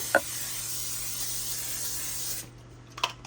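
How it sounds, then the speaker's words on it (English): Cooking spray hisses in one long continuous burst onto a cookie sheet, close and steady for a little over two seconds before cutting off, with a couple of faint knocks as the can is handled. "our next step is I've got to spray my cookie sheet"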